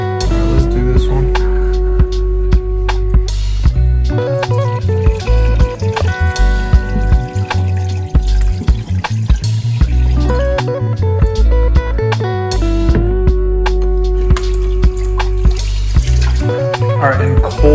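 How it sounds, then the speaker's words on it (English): Running tap water fills and splashes in a bowl while black caviar is rinsed clean, a steady close stream of trickling and bubbling with occasional clinks, continuing over a voice. "So we're just gonna wash it out until all the water is crystal clear."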